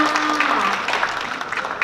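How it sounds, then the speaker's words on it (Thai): A small audience at a children's piano and singing recital claps briefly, a soft patter of applause with a voice trailing off at the start. "ขอเสียงปรบมือให้กับน้องลี"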